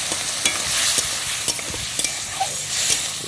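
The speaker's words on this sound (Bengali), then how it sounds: "এবার এরপরে দিয়ে দেবো কোয়া রসুন দিয়েছি আর সরষে বাটা" Garlic cloves and mustard paste hit a hot pan and fry with a busy sizzle, broken by sharp scraping stirs and clinks of a spatula every half second or so, close and steady without any talk.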